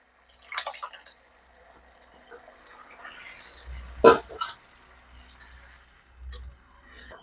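Dal fry boiling in a pot on a gas stove: sparse, thick plops and gurgling bubbles burst now and then over near silence, with one louder glug in the middle, quiet and close.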